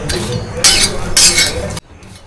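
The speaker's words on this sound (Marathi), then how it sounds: "छान अशी भाजून घेऊया आपण." Dry fish roasting in a pan while being stirred, with metal utensil scraping and clinking against the pan in steady bursts, fairly close and loud, cutting off abruptly near the end.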